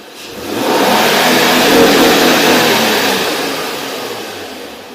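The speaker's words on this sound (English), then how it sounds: "press the accelerator until the engine goes into fuel cutoff" A 2012 Honda Accord 3.5 engine revs up hard to fuel cutoff and holds near the top of its range, then eases back down, loud and close, with no talking.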